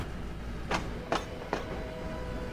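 Train pulling into a station in the video game Transport Fever 2, a low steady rumble with three sharp rail clacks, moderately loud and without talk.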